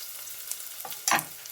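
Onions cook gently in a pan with a soft, faint sizzle, then a brief louder scrape of stirring near the end, close and quiet with no voices.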